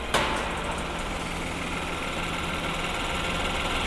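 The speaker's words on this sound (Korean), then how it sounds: "엔진 소리 일정합니다" A Genesis G80 3.3 GDI engine idles steadily with a constant low rumble and hum, no talking, after a brief click at the start.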